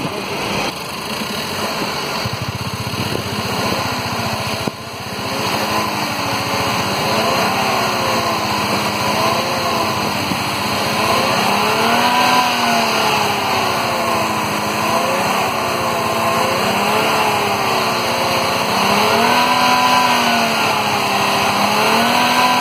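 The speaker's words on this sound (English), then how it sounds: "You can hear the roar of this engine." A 2017 Suzuki Baleno RS with a 1000cc three-cylinder engine and five-speed manual gearbox revs up and down in steady waves, its loud, close tone climbing and falling repeatedly over a constant idle hum.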